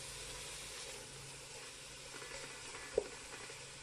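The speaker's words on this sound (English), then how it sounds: "Now I'm going to spread the tomatoes roughly in the bottom of the pot" Spiced tomatoes spread across the bottom of a hot pot for tomato potato rice, giving a steady soft sizzle with one brief scrape or clink near the end, without talking.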